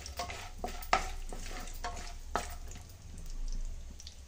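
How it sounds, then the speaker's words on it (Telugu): Almonds roast in ghee with a soft, low sizzle as a spoon stirs them, giving several sharp scrapes and taps against the pan at irregular intervals. "కలుపుకుంటూ కొంచెంసేపు రోస్ట్ చేసుకోవాలండి నెయ్యిలో."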